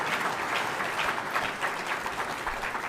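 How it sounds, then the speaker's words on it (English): An audience applauds at a mayoral announcement in Philadelphia about the 76ers arena agreement, with dense, sustained clapping filling the whole clip at a fairly distant, even level and no talking. "Give that a round of applause."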